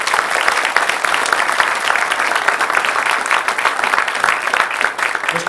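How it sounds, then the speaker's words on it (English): Loud, sustained audience applause at a school board meeting honoring a special education teacher from Caddo Middle Career and Technology, with many hands clapping in a dense, even stream throughout. "Please give him a round of applause."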